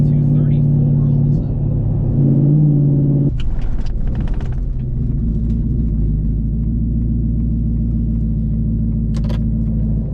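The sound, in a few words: twin turbo 5.0 Ford F150 engine running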